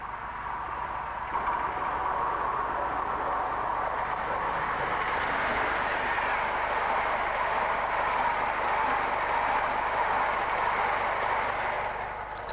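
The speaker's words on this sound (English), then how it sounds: "This is the 919 from Holyhead, complete with DVT." A loco-hauled passenger train from Holyhead with a Class 90 and driving van trailer rumbles steadily past, holding a loud, continuous roar of wheels and engine for the whole stretch with no speech.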